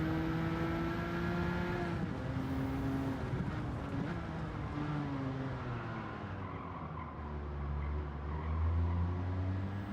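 A racing car in a video game roars with a tonal engine note that shifts pitch through braking and acceleration, mixed with tire skidding, steady and fairly loud with no talk.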